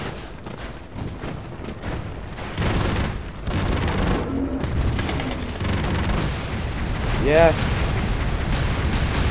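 Explosions and gunfire in the action video game Broforce: dense booming blasts and crackling bursts roll continuously, with a rising whistling effect near the end, while a player talks over the game sounds.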